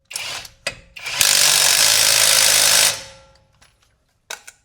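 A generic impact wrench runs a lug nut back onto a wheel in one loud, continuous buzzing burst of almost two seconds, with a few short clicks and taps before and after.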